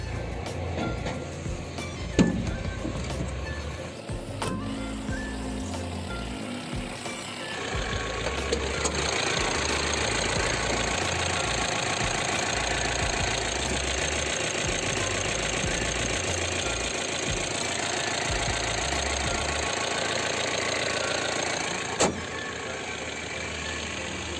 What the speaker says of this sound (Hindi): तो कुछ ऐसा साउंड आता है गाइस कैबिन के अंदर इंजन का